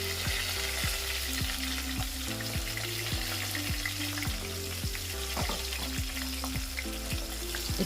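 Sliced onions frying in hot oil with cardamom, cloves and bay leaves. A steady, loud sizzle runs throughout, and a repeating rhythmic tapping sits underneath it.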